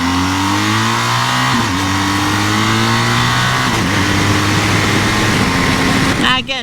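A BMW R 1250 GS motorcycle engine accelerating hard through traffic, loud and close with rising engine pitch and quick gear changes, under wind noise.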